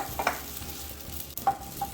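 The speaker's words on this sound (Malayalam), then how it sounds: "നമുക്കപ്പോൾ തക്കാളിയും അതും നന്നായിട്ടൊന്ന് വഴറ്റിയെടുക്കാം" Tomatoes, brinjal and okra sautéing in a pan for Onam sambar, a soft steady sizzle broken by several close scraping stirs of a spoon against the pan.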